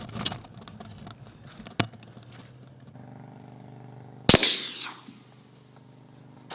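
A single sharp rifle shot from an AR-15 cracks loudly near the end at an outdoor range, ringing briefly before fading, with a quieter click or pop heard earlier.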